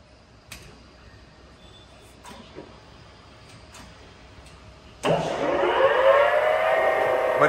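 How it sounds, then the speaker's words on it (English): A Mas VR6A radial drilling machine's spindle spins up to its maximum 2000 RPM, a faint ticking background giving way abruptly to a loud, steady high-pitched whine with a rising tonal sweep. "Working of spindle at its maximum speed, that is 2000 RPM."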